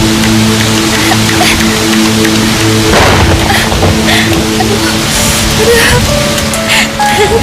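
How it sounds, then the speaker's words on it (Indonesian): Heavy rain pours steadily and loudly throughout, with a dense wash of drops, a thud near the middle and a faint vehicle-like hum underneath. "Hujan semakin lebat."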